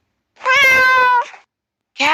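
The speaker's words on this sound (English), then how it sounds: "Cat." A loud, clear cat meow drawn out for nearly a second, followed after a short silence by the start of another meow, close and isolated.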